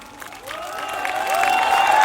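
A speech-rally audience in Patna breaks into applause and hooting; a crowd roar swells over about two seconds, with rising whistle-like whoops cutting through the clapping.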